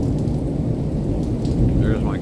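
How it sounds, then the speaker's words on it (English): Thunder rolls low and continuous through a severe thunderstorm, with rain pattering nearby in the same heavy downpour, loud and unbroken throughout. "You hear all the thunder."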